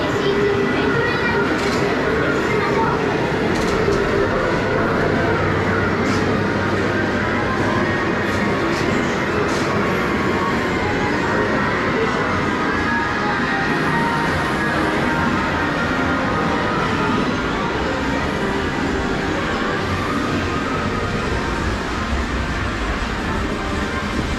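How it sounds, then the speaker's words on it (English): Continuous rumbling train noise from a Japanese Densha train-driving arcade game in an Akihabara arcade fills the space, steady and loud, with a busy background din. "I guess this game is based on driving a train."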